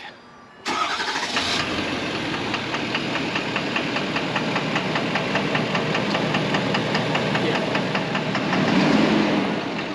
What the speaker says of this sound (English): I'm hoping it's just some sort of injector noise.